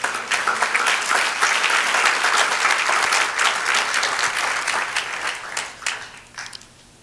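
A church congregation applauds at a Spanish-language sermon on obedience to God. Dense, continuous clapping fills the room for several seconds, then thins and trails off into scattered claps near the end.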